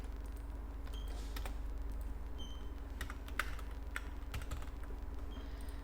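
Computer keyboard typing while working in a Microsoft Excel spreadsheet, a run of irregular close key taps over a steady low electrical hum.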